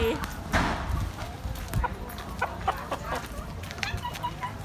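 A chicken clucks near a Thai roadside outing, with voices talking around it and some scattered knocks and rustling throughout.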